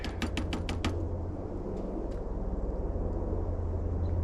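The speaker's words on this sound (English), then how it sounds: "It sounds like a helicopter." A low, rumbling rotor drone of a helicopter passes overhead a winter campsite, steady and throbbing, after a quick burst of sharp knocks at the start.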